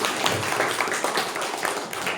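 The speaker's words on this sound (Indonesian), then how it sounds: "tepuk tangan yang luar biasa untuk kelompok penyaji" Seated classroom students applauding a presenting group, a steady wash of many hands clapping together at moderate loudness, with no voices over it.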